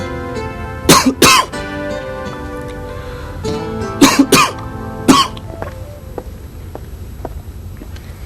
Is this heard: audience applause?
no